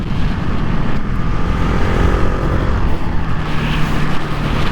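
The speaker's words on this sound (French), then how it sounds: "Je suis arrivé un peu trop vite au rupteur." A KTM 690 SMCR supermoto engine revs hard up to its rev limiter while riding, giving a loud, continuous, buzzing roar mixed with heavy wind rush that stays high throughout.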